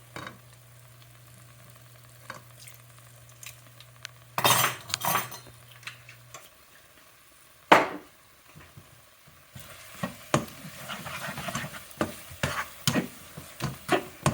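Burger mixture of shrimp and crab with a teaspoon of mustard and Worcestershire sauce being stirred in a bowl, with repeated close scraping and clinking of a utensil, bursts of louder mixing and a steady background hum.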